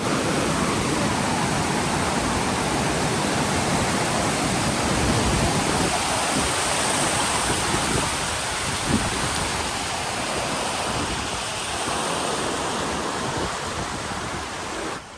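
Rushing water at a scenic spot near Zagreb, Croatia, a steady broadband roar like a waterfall or fast stream that stays loud and even throughout, with no talking.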